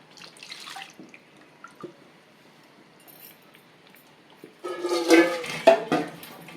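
A little water poured into a freshly washed cooking vessel: a short, close splashing pour near the end, after faint drips and clinks.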